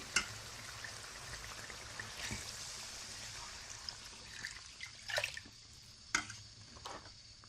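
Water trickles and drips into a cooking pot of soaked rice for chicken pulao, a soft uneven pour with a few louder splashes and clinks near the end.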